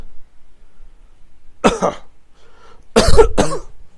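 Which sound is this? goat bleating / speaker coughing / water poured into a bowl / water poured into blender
speaker coughing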